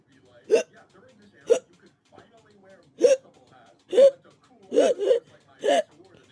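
A voice hiccups from a Pop Team Epic bit, six sharp, close hiccups spread at uneven intervals over several seconds, with quiet breathy sounds between them.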